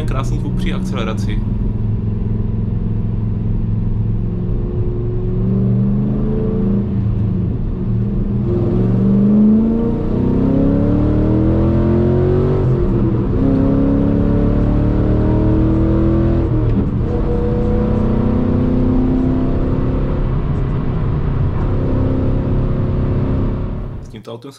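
A Chevrolet Camaro with a 6.2-litre V8 and manual gearbox accelerating, its loud engine note rising in pitch through several gear pulls, close and strong, with a person talking over it.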